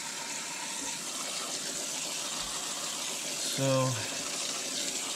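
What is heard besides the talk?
water rinsing cleaner off K&N air filter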